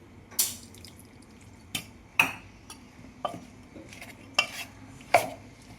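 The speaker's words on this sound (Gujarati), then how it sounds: "હવે આપણે થોડું પાણી એડ કરીશું." Water is worked into a gram flour batter for spinach pakoda, with six or so distinct clinks and scrapes of a utensil against the bowl at irregular intervals, close and fairly clear.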